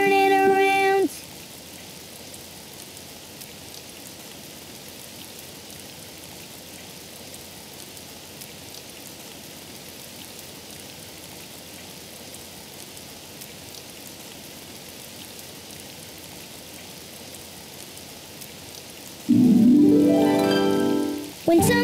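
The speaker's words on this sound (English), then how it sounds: "Oh, it's raining outside." Steady cartoon rain falls outside as an even, soft hiss that runs for most of the stretch, with brief musical tones at the start and a louder burst of sound near the end.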